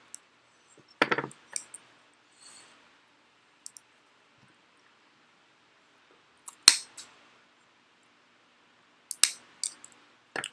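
Wire snips cutting razorwire for tabletop wargame terrain give a few sharp, isolated metallic clicks and snaps, spaced several seconds apart against near silence.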